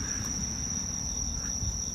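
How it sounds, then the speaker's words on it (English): Crickets or cicadas chirp in a steady, high-pitched continuous trill, with a low rumbling background underneath, during a night walk in Omotesando, Japan. "You can hear the cicadas. Or crickets."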